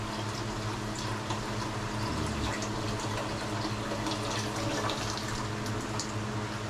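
Water pouring steadily into a cooking pot of arroz caldo, a continuous close gushing splash with no pauses or speech.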